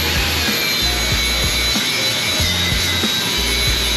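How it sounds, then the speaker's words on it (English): A wire wheel scrubs oxidation off a TIG weld bead on a 3G plate test, giving a steady, loud, broadband whirring rasp that carries on without a break, with low thumps underneath. "I'm gonna hit it with a wire wheel to clean off any oxidation on the surface of that weld."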